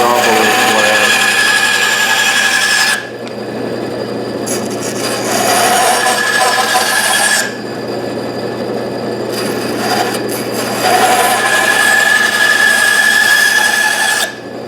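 A bandsaw takes a small slab off a block of wood, its loud whining cut rising and falling in several long passes with brief lulls between them.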